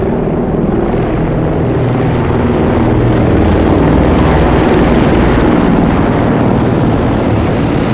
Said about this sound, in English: the lead aircraft in the helicopter formation is an A109 Augusta from 90 Squadron